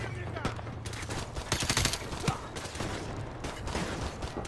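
Rapid video game gunfire in Modern Warfare Remastered: sharp automatic bursts and single shots crack through a busy battlefield mix, fairly close, with a low engine-like rumble underneath.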